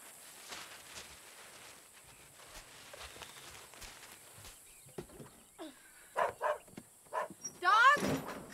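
A dog barks in a quiet room. Soft shuffling and footstep-like sounds come first, then a few louder barks and yelps close to the microphone near the end.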